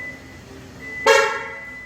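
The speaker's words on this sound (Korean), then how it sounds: "누르면 빵 소리 한 번이 나면서 문이 잠깁니다" A single short car horn beep sounds as the doors of a 2011 Hyundai Genesis lock, after a second of quiet idling, brief and fairly loud, then fades back to a low hum.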